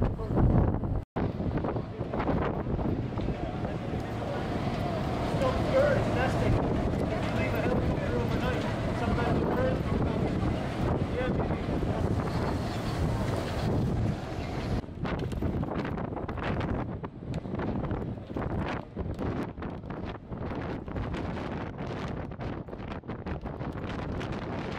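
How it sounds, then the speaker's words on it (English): Strong wind buffets a boat arriving at Deception Island in Antarctica, a loud, continuous roaring rush of gusts over the microphone, with people talking faintly beneath. "It's windy, huh?"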